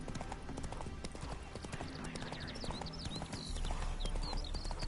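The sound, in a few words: horse hooves in the video game Witcher 3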